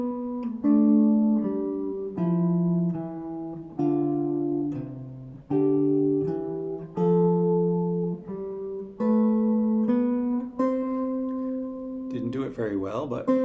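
An improvised two-voice counterpoint, probably on a keyboard, with eighth notes in the lower voice under quarter notes in the upper voice, plays as a steady, close, moderately loud passage of clear pitched notes that ends with a brief, blurred flourish.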